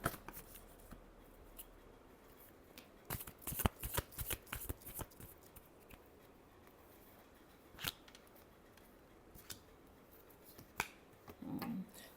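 Tarot cards are shuffled close by in quiet, with bursts of riffling, crisp flicking and snapping card sounds coming in irregular clusters between softer pauses.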